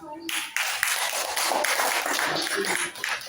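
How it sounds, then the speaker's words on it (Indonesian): A classroom group of students claps together on cue, a dense burst of hand clapping lasting a few seconds with voices mixed in. "Ya, silakan beri tepuk tangan."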